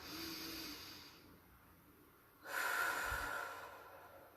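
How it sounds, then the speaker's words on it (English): Slow, deep breaths drawn into the belly during a calming relaxation exercise: a long soft exhale fades out, then a louder, close airy inhale follows, with no talking. "breathing right into the belly,"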